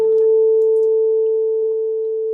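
A 442 Hz pure tone holds steady and loud throughout, a single unbroken sine pitch with no voices.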